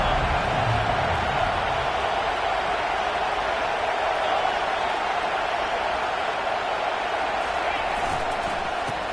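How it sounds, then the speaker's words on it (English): A stadium crowd roars at a college football game between Georgia and Texas, a dense, constant wall of cheering with a commentator talking over it. "this crowd is turning it up a notch"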